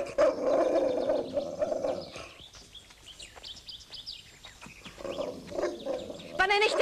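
A dog barks and yelps in an outdoor film scene from 1980, with a few sharp barks mixed with bird chirps and a steady background murmur.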